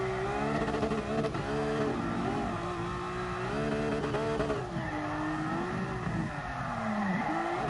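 Game car in GT Sport drifting on the Nordschleife with the handbrake, engine droning loudly and steadily with rising and falling pitch, tires squealing through the slides.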